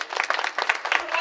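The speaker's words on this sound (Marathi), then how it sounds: "त्यांच्यासाठी एकदा जोरदार टाळ्या" An audience at a kirtan bursts into brisk, dense clapping, a short burst of applause from many hands at moderate distance.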